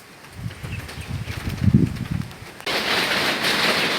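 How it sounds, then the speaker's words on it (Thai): Storm over flooded rice-field country in Surin province, Thailand: gusty wind and rain rumble low and uneven, a thunder-like swell building mid-clip, then a steady loud wash of wind-driven rain takes over for the final seconds, no talk. "ลมเริ่มแรงขึ้นแรงขึ้นนะครับ สลับกับมีเสียงฟ้าร้อง ฟ้าผ่าดังเป็นช่วงๆ"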